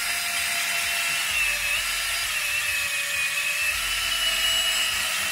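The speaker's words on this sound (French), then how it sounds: "j'ai mis de la pâte à polir ici sur la petite brosse à polir et on va y aller tout doucement" A small rotary polishing brush loaded with polishing paste spins against an arcade cabinet screen, giving a steady, high, thin whine that holds constant and close throughout, with no talking.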